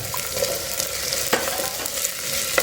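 Potatoes for vegetable pulao being stirred and fried in a matka pot over a high flame, with a steady sizzle and scraping stir strokes throughout, fairly loud and close, with no talking.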